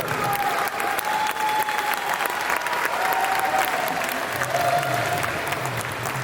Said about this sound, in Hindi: स्वागत कीजिए जोरदार तालियों के साथ, खड़े होकर स्वागत कीजिए सुरेंद्र शर्मा साहब।